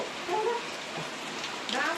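Steady rain falls outside a home, a dense even hiss throughout with a faint voice in the background.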